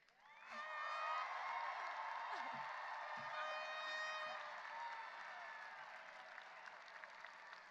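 Graduation audience at Mason High School's class of 2022 ceremony breaks into sustained applause with cheers and whoops, loud and steady from start to finish, fading slightly toward the end.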